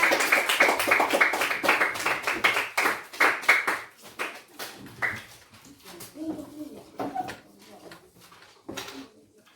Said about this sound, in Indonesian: tepuk tangan yang meriah untuk kelompok 3